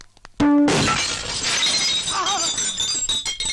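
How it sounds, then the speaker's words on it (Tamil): Loud glass pane smashing in a comedy film scene: a sharp shattering crash after a brief tonal note, followed by scattered tinkling shards settling over about three seconds, with faint voices in the background. "வாசப்படி நினைச்சு கண்ணாடி நொறுக்கி தள்ளிட்டாங்களே."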